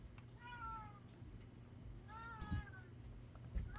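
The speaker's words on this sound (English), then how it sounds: "There's a cat throwing a fit somewhere." A cat yowling and throwing a fit somewhere away from the room, two drawn-out wavering meows, faint and distant beneath a quiet background hum.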